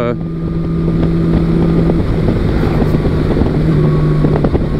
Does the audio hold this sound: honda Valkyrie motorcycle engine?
yes